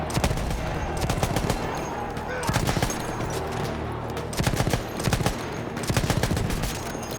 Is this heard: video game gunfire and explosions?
yes